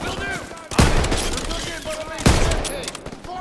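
Heavy gunfire in the Call of Duty WWII game, during a fight to clear a building lobby with a machine gun on the stairs: two loud, close bursts about a second and a half apart over a constant rumble of battle noise.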